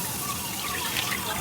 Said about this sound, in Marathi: काऊ मिल्कच्या 2 पिशव्या मी घालत आहे।